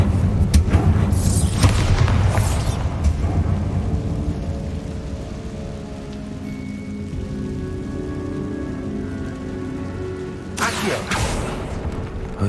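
Bombarda explosion spell cast in Hogwarts Legacy inside a tomb, a loud booming blast with a rumbling tail that fades into a low ambient drone, then a second short burst near the end.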